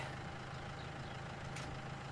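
A small tractor idles in Farming Simulator 19, its low, steady engine hum running evenly and continuously at moderate level with no talk over it.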